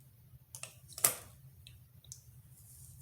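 Natural hair being cut at home gives one crisp scissor snip, with a few faint clicks before and after in otherwise near silence.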